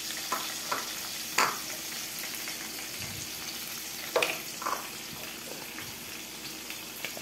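Flour stirred bit by bit into boiling fish broth in a pot makes a steady low simmering bubble, broken by a few soft scraping stirs and light clinks, quiet and close with no talking.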